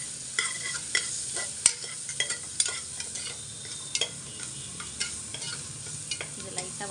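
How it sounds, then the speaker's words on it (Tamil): Ingredients for chicken soup sautéing in ghee in a pan, a soft steady sizzle under repeated scraping and clinking stirring strokes, close and moderately loud, with no voices. "இது எல்லாத்தையும் நல்லா வதக்கி விட்டுடலாம்."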